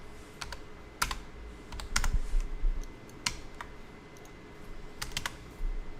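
Computer keyboard keys clicked in scattered bursts while modeling a pavé-set pear-shaped pendant, including presses of Enter and Shift; close, crisp taps over a quiet room hum with no voice.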